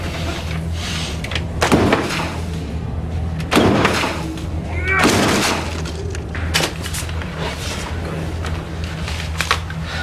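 A door is tried and opened in a police drama: several heavy thumps and rattles at uneven intervals, loud and close, over a steady background hum.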